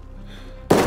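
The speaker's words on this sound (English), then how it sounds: "Where the freak am I getting shot from?" A single sharp gunshot impact hitting the player in Call of Duty: Vanguard, a sudden loud crack after a quiet moment.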